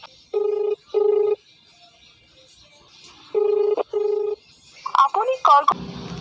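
A phone call rings out unanswered, two pairs of ringback tones repeating at a steady pace in the earpiece before a voice begins speaking over a short burst of noise.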